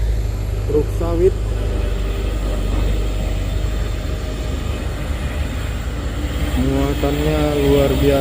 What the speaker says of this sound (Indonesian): Truk sawit.